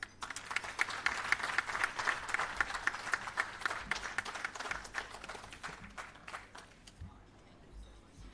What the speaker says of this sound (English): Another round of applause, ladies and gentlemen, for our Acting Chief Technical Director.